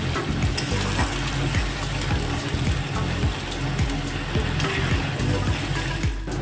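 A thick onion paste fries in a pan, bubbling and spattering loudly up close with a dense continuous hiss and irregular low pops, no voices.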